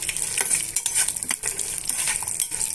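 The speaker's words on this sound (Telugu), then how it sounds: "పల్లీలు కూడా ఇందులోనే వేసి ఇవన్నీ కూడా బాగా వేయించేసుకోవాలండి" Brisk sizzling and crackling of peanuts frying in a pan, with frequent scraping and stirring clatter from a utensil, no voices.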